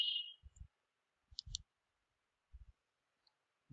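Crisp, quiet computer mouse clicks come in small clusters of two and three, separated by silence, close to the microphone.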